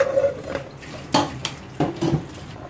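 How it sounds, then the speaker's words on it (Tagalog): Metal lid clatters onto a pot of simmering pork sinigang, a few distinct clanks and scrapes spread over a couple of seconds, close and fairly loud, with no talking. "So takpan ko lang muna to."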